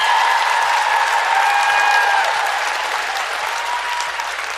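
An audience claps steadily in sustained applause that fills the room at an even level and eases off slightly toward the end, with faint voices beneath it.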